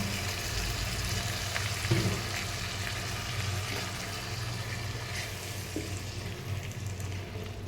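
Curry sautéing in a pan with chili powder and a little water, a steady continuous sizzle that stays fairly even throughout with a brief louder burst near the start, no voices.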